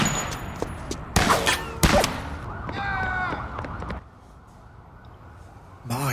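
Gunfire from a street shootout in an episode of The Wire, with several sharp loud cracks in quick bursts, followed by quieter crackling and a later single loud report.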